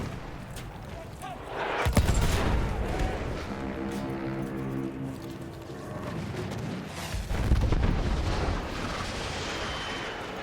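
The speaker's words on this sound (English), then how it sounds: "Oh, it's firing mortars" Mortar fire in Battlefield 1 combat: a sharp loud blast followed by rumbling battle noise, a mechanical droning hum, then another heavy booming burst, all dense and continuous.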